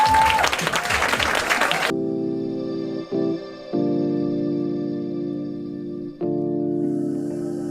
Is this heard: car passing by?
no